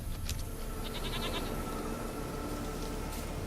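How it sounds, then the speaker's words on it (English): A goat bleats in The Witcher 3, a few short wavering calls over a steady in-game ambient bed, with no talk. "Here, goat."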